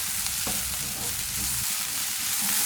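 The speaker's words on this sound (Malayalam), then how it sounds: "അതിനുശേഷം നമുക്ക് ഇത് നന്നായിട്ട് തന്നെ ഒന്ന് മിക്സ് ചെയ്ത് കൊടുക്കാം" Spring roll vegetable filling with spring onion leaves is stirred in a hot pan. A steady sizzle of frying runs throughout, with scraping and stirring sounds close by and nobody talking.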